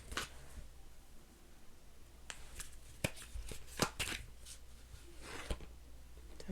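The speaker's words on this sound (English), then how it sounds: "Two more shuffles." Tarot cards being shuffled close by, a soft continuous riffling broken by several sharper snaps and flicks, with no talking.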